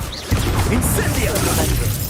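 Incendio fire spell cast in the video game Hogwarts Legacy: a sudden burst with a bright shattering crackle, followed by continuous close combat rumble, with faint speech mixed in.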